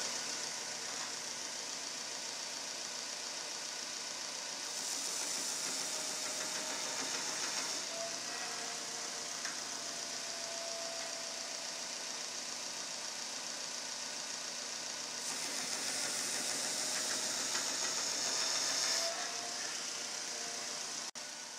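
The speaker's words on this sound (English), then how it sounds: "So then we're gonna go and turn the grinder on." Belt grinder running while a knife blank is ground to a bevel, a steady motor whir with bursts of louder, brighter abrasive hiss as the steel meets the belt, no talking.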